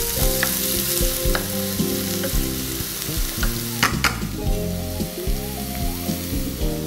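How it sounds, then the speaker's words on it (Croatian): Onion frying in a pan until soft, giving continuous close sizzling and crackling with occasional utensil scrapes from stirring, steady and fairly loud with no voices. "i pržimo ga dok ne omekša"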